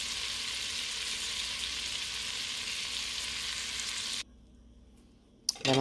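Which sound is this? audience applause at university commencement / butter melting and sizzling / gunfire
butter melting and sizzling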